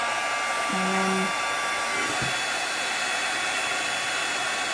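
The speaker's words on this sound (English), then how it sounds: "And then you just take your heat embossing gun" A heat embossing gun blows hot air to dry a paper craft project, making a steady, loud, even whoosh that runs unbroken throughout, with a single brief spoken word near the start.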